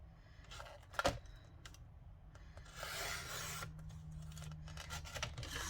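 Scissors snip a thin sliver off a sheet of paper for a flip envelope, giving soft close rasping and rubbing cuts with one sharper snip, quiet against a low room hum.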